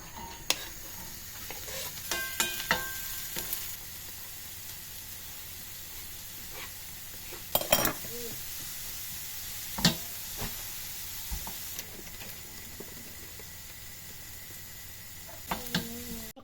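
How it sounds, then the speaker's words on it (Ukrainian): Buckwheat being stirred with a fried onion and carrot dressing, giving soft scraping and clinking strokes in a pan with faint sizzling in the background, a few sharper knocks standing out. "Я заправку засипала, заклала у гречку, вимішала, дуже смачно виходить."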